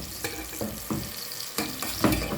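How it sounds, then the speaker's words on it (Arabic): Onion sautéing in oil for a pasta dish crackles and sizzles up close, broken by several scraping stirs of a utensil against the pan. "انا البصله دي كده بشوحها كده لحد ما تديني اللون الاصفر"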